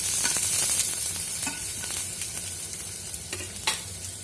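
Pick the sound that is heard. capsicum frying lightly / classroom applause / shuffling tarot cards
capsicum frying lightly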